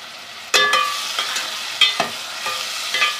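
Onion frying in oil with a spoonful of garlic-ginger paste produces a crackling sizzle punctuated by several loud, sharp spatula scrapes and stirs at irregular intervals, close and clear.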